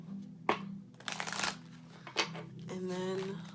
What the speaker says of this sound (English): and then one last shuffle